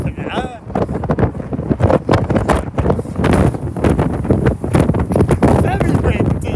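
Strong wind buffets the microphone on the open top deck of a City Sightseeing Bournemouth bus, a loud continuous roar and rumble with a voice talking over it.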